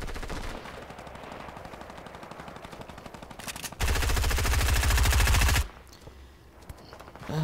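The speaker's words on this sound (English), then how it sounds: "I got like four different people shooting at me, so this is a lot harder with this rifle" Rifle and automatic gunfire rattle in a Fortnite 50 vs 50 match, with steady rapid bursts that swell into a louder, denser volley midway before cutting off abruptly.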